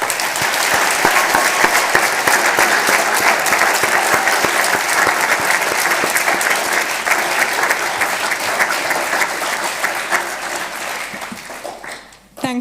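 A standing audience at a model UN closing ceremony bursts into loud, continuous applause, with crowd noise mixed in, fading toward the end before a brief sound cuts in.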